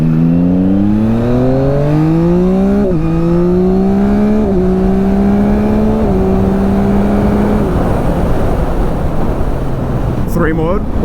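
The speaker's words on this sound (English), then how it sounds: "Let's get a good acceleration in 3 mode here" A 2021 Yamaha MT-09 SP motorcycle accelerating hard in riding mode 3, its engine note climbing steeply through several quick upshifts, each marked by a brief dip, then settling into loud wind rush with a short high whine near the end.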